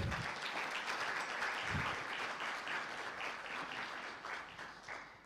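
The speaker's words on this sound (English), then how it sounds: "another round of applause to our speaker" Conference hall audience at a law society annual meeting claps for a keynote speaker, a fairly faint, distant patter of applause that gradually fades toward the end.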